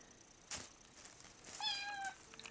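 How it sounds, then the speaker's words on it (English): A cat gives one short, drawn-out meow close by, set against a quiet background with a soft rustle just before. "he's meowing in my ear now"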